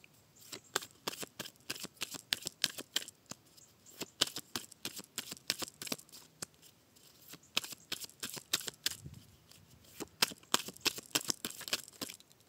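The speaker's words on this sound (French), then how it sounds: "je vais essayer de faire sauter 3 cartes" Tarot cards riffled and flicked by hand in rapid, crisp bursts throughout, with dense papery snaps and brief pauses, close and fairly quiet with no talking.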